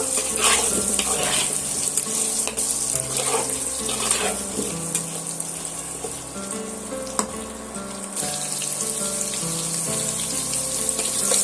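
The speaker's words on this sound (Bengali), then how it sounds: "দিয়ে আমি আলুগুলো সুন্দর করে লাল লাল করে ভাজা করে নেব" Continuous loud sizzling of potatoes frying in hot oil, with occasional stirring clinks and scrapes throughout, no voices.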